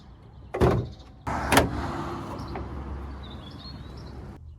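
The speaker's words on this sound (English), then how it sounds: "let's get the bonnet up" The bonnet of a 1.2 petrol Vauxhall Corsa is opened, two sharp clunks of the release and lifting panel, followed by a low hum of surroundings and faint distant birdsong.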